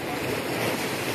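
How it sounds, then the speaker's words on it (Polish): Strong ocean waves churn during a cyclone in Mauritius, a dense, continuous roar of surf mixed with wind buffeting, heard briefly and close from a hotel terrace. "mocne fale są"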